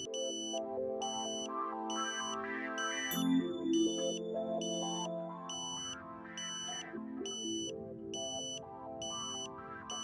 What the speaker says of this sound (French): Vous entendez ensuite la tonalité de verrouillage.